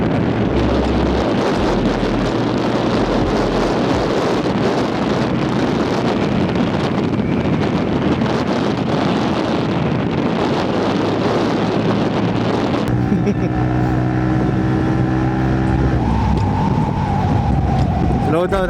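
A QJMOTORS Bristol ATR 160 motorcycle rides along, its engine buried under heavy wind buffeting at first, then a clear rising engine note emerges during an overtake.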